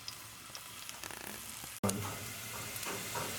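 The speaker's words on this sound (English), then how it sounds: "we add our sliced onions, and we cover them to cook for about 1 minute" Sliced onions hit a hot pan for a chicken wet fry, and a steady loud sizzle follows a brief quieter stretch and a sharp break, close and continuous with no talk.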